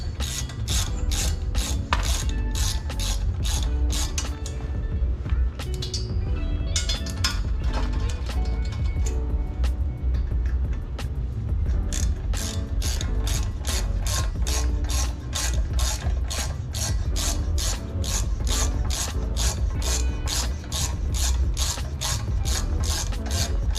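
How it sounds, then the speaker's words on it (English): A ratchet wrench tightens turbo manifold bolts on a K20-swapped AWD Civic build, a loud, close, rapid clicking pawl repeating steadily throughout with a brief pause midway. "Ratchet real quick."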